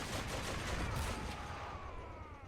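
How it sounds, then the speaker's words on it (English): Confederate howitzers shelling center positions in a Battle of Washington D.C. video game battle, heard as a dense, continuous rumble of artillery and gunfire that stays loud throughout before easing slightly near the end. "Confederate howitzers now shelling the center positions."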